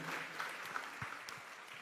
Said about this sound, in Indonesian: Beri tepuk tangan yang meriah bagi Tuhan.